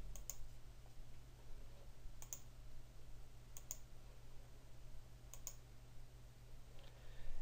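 Computer mouse clicks while picking a file in VeraCrypt encryption software, four faint, crisp double clicks spaced about a second or more apart over a low steady electrical hum.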